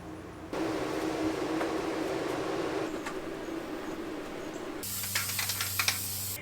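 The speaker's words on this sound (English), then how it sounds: "We put some spray adhesive on the back side, put it back down, stapled back down our edges" Spray adhesive hisses steadily from a can onto the underside of a van garage floor panel, then a burst of sharp staple clicks as the floor edges are stapled down.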